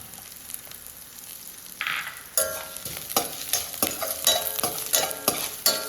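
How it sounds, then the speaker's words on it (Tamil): Garlic and ginger fry for a bitter gourd chutney while a spoon stirs them, a steady close sizzle broken by regular scraping strokes that grow louder partway through, with no talking. "எல்லாமே நல்லா கிளறி விட்டுக்குவோம்"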